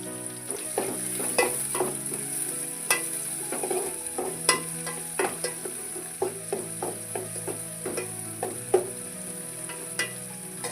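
Crushed ginger, garlic and curry leaves sizzle steadily in hot oil with onion, a village-style field bean gravy base, while a spoon scrapes and stirs the pan in frequent sharp clinks over the continuous frying hiss.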